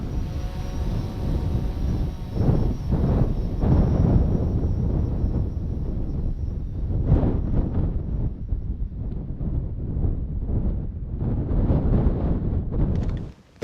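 Strong, continuous wind roaring and buffeting against the microphone near the summit of Gran Pilastro (Hochfeiler), 3510 m, in the Zillertal Alps, with rumbling gusts that swell and ease throughout and no voices.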